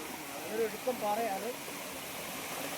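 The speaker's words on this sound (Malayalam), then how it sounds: "നല്ലൊരു വെള്ളച്ചാട്ടം തന്നെയാണ് നമ്മൾ പ്രതീക്ഷിച്ച പോലെ" A forest waterfall pours steadily in the jungle, a broad continuous rush with faint gurgling, while a voice speaks softly over it.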